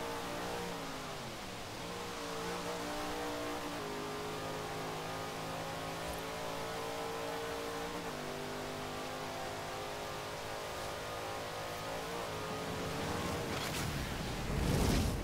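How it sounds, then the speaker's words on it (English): Car engine in Forza Horizon 3 screaming at redline near 165 mph, a sustained high-rev drone with steady harmonic tones that shift at gear changes, moderately quiet and with no talking. "It's literally redlining 165 miles an hour."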